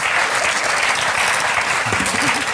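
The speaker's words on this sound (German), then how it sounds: "Ich finde, das ist mal einen Applaus wert." Studio audience applause on a television cooking show, dense sustained clapping from a crowd, loud and even across the whole clip, with a brief voice near the end.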